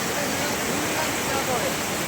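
Rushing water swollen by two days of steady rain pours past in a dense, unbroken roar, loud and close, with no pauses or distinct splashes.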